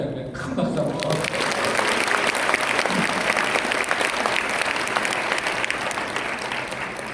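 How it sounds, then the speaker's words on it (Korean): At a seminar, an indoor audience claps loudly and densely in a sustained burst, filling the room with steady, overlapping applause. "큰 박수 한번"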